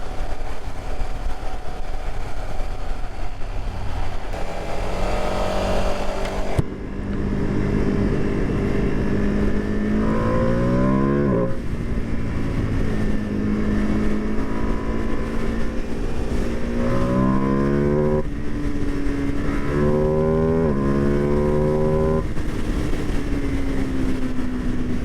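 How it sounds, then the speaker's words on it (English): A 2025 Ducati Panigale V2S motorcycle at wide open throttle, its engine rising in pitch through several upshifts in a loud, close, continuous run with wind roar. "And that was absolutely wide open throttle."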